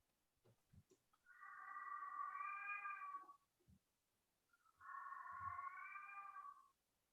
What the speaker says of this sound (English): I don't think your cat likes that.